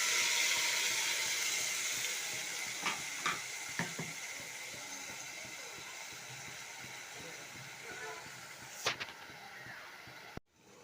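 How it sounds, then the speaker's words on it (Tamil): Onion-tomato paste poured into hot oil sizzles and hisses steadily, loudest at the start and fading gradually, with a few spoon scrapes and clinks of the pan over the frying. "நல்லா வெடித்த உடனே வெங்காய தக்காளி பேஸ்ட் பண்ணதை எடுத்து இதில் ரெடி பண்ணதை ஊற்று."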